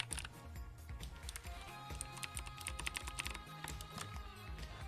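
An Ergodox mechanical keyboard is typed on continuously at close range, with a dense, steady patter of loud clacking keystrokes across the whole stretch.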